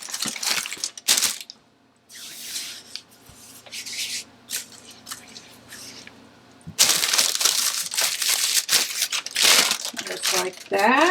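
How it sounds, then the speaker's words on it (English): Parchment paper is crumpled by hand in a home kitchen during fall baking, crinkling in bursts of close, loud rustles separated by quieter pauses, with a voice speaking over parts of it. "Crumple it so it stays in place a little bit."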